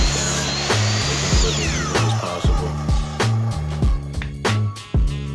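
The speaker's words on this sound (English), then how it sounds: "I was just sanding things" Power sander smoothing wood scraps for a homemade fingerboard obstacle, a steady close motor whine broken by repeated short thumps and surges as the pieces are pressed and shifted against it.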